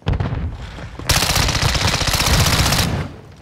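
Loud rapid automatic gunfire in a video game shootout: a short burst, then a sustained dense stream of shots lasting about two seconds before cutting off.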